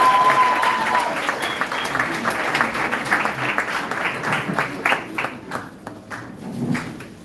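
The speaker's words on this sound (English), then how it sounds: "Let us give them a big round of applause." A crowd at a training event in Zambia gives a big round of applause, dense clapping from many hands that swells, holds, then thins out and fades over several seconds, with a few voices underneath.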